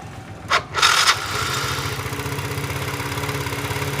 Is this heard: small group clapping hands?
no